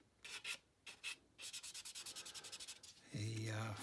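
Close, rhythmic scraping of a roughly 600-grit sanding stick on a scale model car: a few slow strokes, then a quick run of short back-and-forth rubs, ending as a low hum begins.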